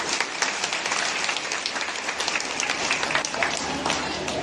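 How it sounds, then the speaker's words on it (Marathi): A crowd at a political campaign rally in Ardhapur claps steadily in sustained applause, dense and loud throughout. "मग एकदा टाळ्या वाजवायच्या का नाही"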